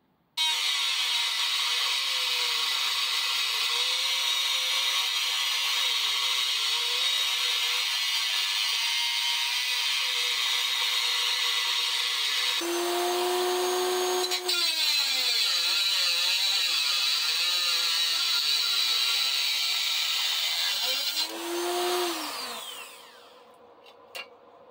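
A power tool cuts metal to make a slot for a cover plate on an electric Raleigh Chopper bike build. It gives a long, steady, loud whine that dips and rises with the load and stops briefly partway through before ending.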